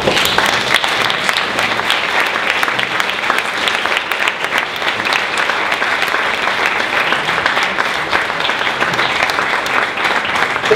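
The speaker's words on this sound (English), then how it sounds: "we also need to give a big, big round of applause to the coaches" Loud, sustained applause from a large crowd at a Startup Weekend event in Cluj, dense steady clapping filling the whole stretch without letup.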